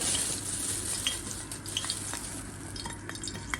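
Oil heating in a frying pan, hissing with a dense, continuous sizzle and a few small pops and crackles, close and steady throughout.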